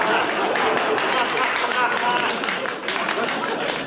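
Audience applause at an awards ceremony for standing nominees, a dense, steady wash of clapping mixed with crowd chatter, loud and sustained throughout.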